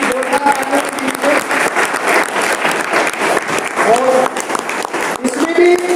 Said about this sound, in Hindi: इंट्रोडक्शन ले लेते हैं आपकी जोरदार तालियों से